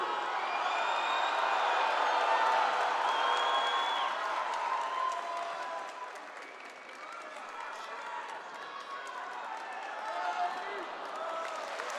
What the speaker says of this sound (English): Round of applause for Robert, ladies and gents.